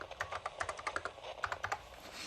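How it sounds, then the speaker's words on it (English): Quick, uneven taps on a computer keyboard sound close and crisp as a short note is typed, with clusters of keystrokes and brief pauses, no voices. "be able to grab the keyboard and write a note to yourself"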